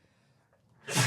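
A single sharp sneeze bursts out at the end after a quiet breath, close and fairly loud.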